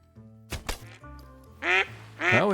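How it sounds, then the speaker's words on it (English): A duck quacks in a short series of loud, nasal calls near a hunting blind, with a low mechanical hum and a couple of sharp thuds between the calls. "Alright, there's our duck."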